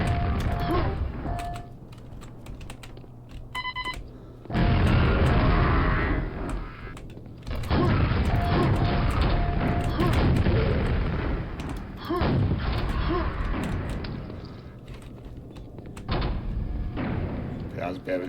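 Explosions in the game Alkaline: heavy booming bursts with deep rumble swell up several times, loud and close, mixed with thuds and mechanical game noise while voices talk over them.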